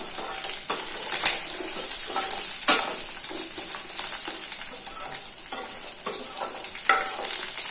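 Fish curry masala frying in a pan, a steady close sizzle with intermittent scrapes and stirring strokes, no voices.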